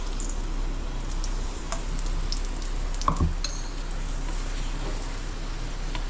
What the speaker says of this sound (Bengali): ঘি দিয়ে এটা ভাজবেন